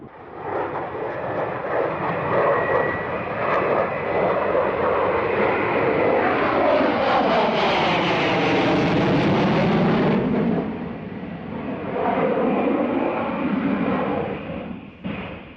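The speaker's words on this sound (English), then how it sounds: "Star of the show for many was the Slovak MiG-29 flying here in Sunday's damp weather." A Slovak MiG-29, a Soviet-built jet fighter, roars past at an air show in damp weather, a loud continuous engine rumble that swells with a sweeping pitch change as it passes, then tapers slightly while still close.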